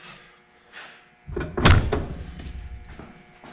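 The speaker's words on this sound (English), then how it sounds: "So you'll be the first to see this door shut with a gasketing." A Can-Am Defender half door with rubber weather-stripping gasket swings shut in one solid, muffled thunk at close range, preceded by faint handling sounds and followed by a brief rattle settling.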